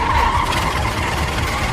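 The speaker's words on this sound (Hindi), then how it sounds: "पिक्लू ने तुरंत गाड़ी बढ़ाई" A car speeds off with its tires skidding, used as a dramatic sound effect in a Hindi horror story. A loud, continuous screech and roar fills the whole moment, with no voices.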